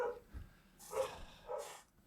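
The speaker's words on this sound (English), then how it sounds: "That's my dog." A pet dog barking in the distance, two or three faint, muffled barks spaced about half a second apart over a soft background.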